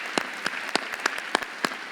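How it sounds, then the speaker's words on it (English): Applause from a seated gala audience at a foundation awards dinner, a steady patter of clapping with sharper individual claps standing out, fairly close and with no talk over it. "A big round of applause."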